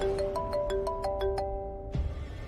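A mobile phone ringtone plays a quick series of bright electronic tones, close and clear, before it is cut off.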